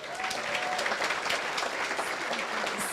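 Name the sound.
audience applause for Zenshin Daiko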